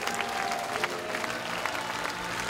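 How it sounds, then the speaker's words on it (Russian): A church crowd claps steadily and loudly in dense, continuous applause, heard up close. "Vamos a dar un aplauso al Señor por lo que él ya hizo"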